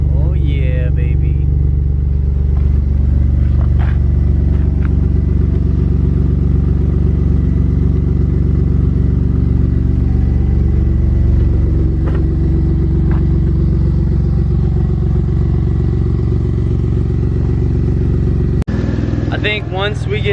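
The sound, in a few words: car engine running with new Endless RPM exhaust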